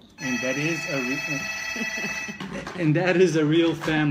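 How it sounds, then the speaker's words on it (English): Telephone ringing in a hotel room, a sustained electronic ring sounding under a man's speech before the talk takes over. "sorry for the phone ringing"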